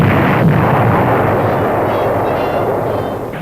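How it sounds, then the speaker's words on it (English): Atomic bomb explosion in an archival newsreel, a loud continuous roaring rumble that holds steady for several seconds and slowly eases, with no voice over it. "this is the terrifying effect of one small bomb"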